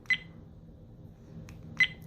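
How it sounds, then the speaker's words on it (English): Two short, sharp electronic beeps from an AZDOME M550 dash cam about a second and a half apart, clear against a low hum. "Beep sound, you can turn it off."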